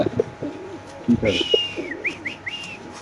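Soft pigeon cooing close by, a few short calls followed by whistly higher notes, with faint background noise.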